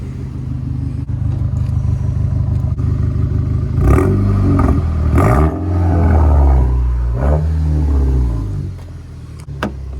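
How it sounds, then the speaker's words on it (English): An Infiniti G35 car engine idles steadily and loudly up close, with deeper surging revs roughly midway through and a rough, throaty tone throughout. "car sound nice as hell"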